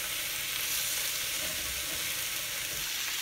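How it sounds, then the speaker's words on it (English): Panko-coated liver frying in a pan as the pieces are flipped, a dense, continuous sizzle that stays loud and close throughout with no talking. "I'm just taking them really delicately and I'm just flipping them, and you can see they're getting nice and brown on the other side"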